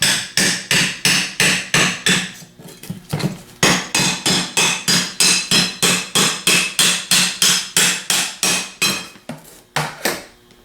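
Repeated hammer blows knock a rotor out of a Denso fan stator, a steady metallic tapping of about two to three strikes per second, close and loud, with a short pause near the three-second mark and no talking.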